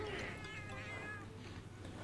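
Cat meowing in the hunting game Monster Hunter Freedom Unite, a drawn-out, wavering mew that rises and falls, quiet over soft game background, then fading away.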